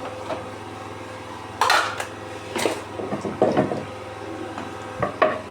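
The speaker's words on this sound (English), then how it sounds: "I want to pound it now in my mortar light now." Turmeric and garlic pounded in a mortar, giving irregular dull knocks and scraping thuds close by, a few sharper strikes spaced unevenly across several seconds with no talking.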